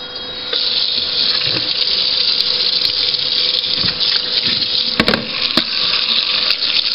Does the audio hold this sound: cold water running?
yes